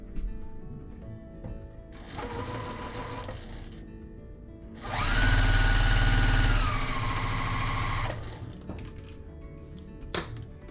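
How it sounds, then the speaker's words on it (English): Sewing machine stitching a quarter-inch seam on quilt pieces: a short mid-pitched motor whir, a pause, then a longer, louder steady run that slows slightly before stopping. "let's go to the machine and we'll sew that together"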